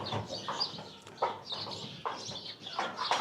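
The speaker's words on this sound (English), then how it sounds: "Nothing like a chicken who's all proud of themselves for laying an egg" A hen clucking proudly just after laying an egg, a steady run of repeated loud squawking clucks at moderate distance, with no talking.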